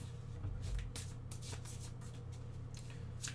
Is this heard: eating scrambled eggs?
no